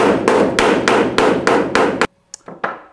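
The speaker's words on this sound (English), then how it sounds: "now I'm going to hammer it a bit so I can make sure that I almost have no gap in between the two panels" Hammer striking a sheet metal overlay panel on the rear cabin of an old rusty truck, seven loud, evenly paced metallic blows followed by a pause and a few lighter taps, close up with no talk.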